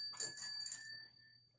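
A small hand bell rings a single time, a bright metallic ding that fades slowly into silence over about a second.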